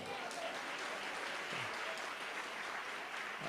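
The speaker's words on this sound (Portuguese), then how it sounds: "Quem quer aplaudir mais forte" A church congregation applauding steadily, a dense wash of clapping throughout with a faint voice beneath it.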